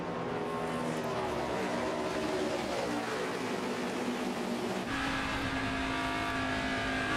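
NASCAR Nationwide Series stock cars race at Darlington, a constant loud engine roar with rising and falling pitch as the pack passes, heard continuously under a broadcast mix.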